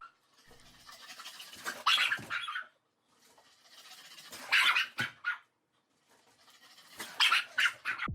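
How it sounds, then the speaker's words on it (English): An overexcited, high-energy dog gives three bursts of yips and barks spaced a couple of seconds apart, separated by quiet gaps, with no talking. "Here's a dog that has way too much energy."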